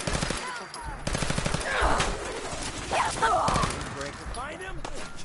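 Gunfire in the video game Fallout 4, bursts of shots cracking through a busy battle mix with voices talking over the action.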